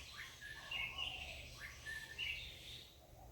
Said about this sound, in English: The birds are playing.